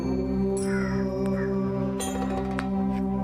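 Crows caw a few times at a quiet temple site, harsh calls standing out over a steady background hum, with no talk.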